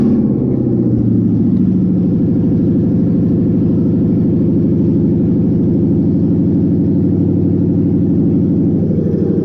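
A Toyota Surf engine idles with no exhaust fitted, giving a loud, steady, low rumbling drone that continues without change for the whole stretch, close to the microphone.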